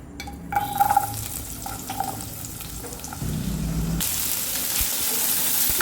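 Chopped onions, garlic and green chillies sauté in a pan. They sizzle steadily, with a few clinks of stirring early on, then a constant fry that grows brighter and hissier.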